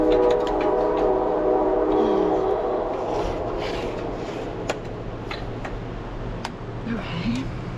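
A train passes near an off-grid cabin in Alaska, a low rumbling drone with faint horn-like tones and clicks, heard at a distance and slowly fading.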